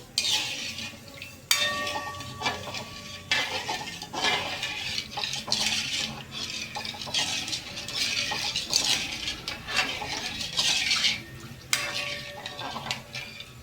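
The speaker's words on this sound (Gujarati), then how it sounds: "ખાલી ખાંડને ઓગાળવાની જ છે, ચાસણી નથી બનાવવાની." Sugar stirred in a metal pan on the stove until it melts, with repeated scraping and clinking of a spoon against the pan and a faint sizzle underneath, close and fairly steady.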